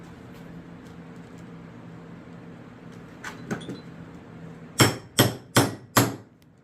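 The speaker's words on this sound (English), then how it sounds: "I'm going to try to hammer it in position" Four sharp, evenly spaced hammer blows ring out close by on a metal rivet, preceded by a few lighter taps and quiet handling.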